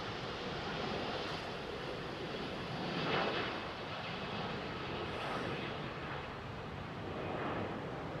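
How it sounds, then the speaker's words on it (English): A Virgin Boeing Dreamliner takes off at Heathrow on a long run down the runway, a steady broadband jet roar that stays loud and even throughout with a slight swell midway, no voices. "Usually quite a long run for these Dreamliners, especially with Virgin, using maximum runway."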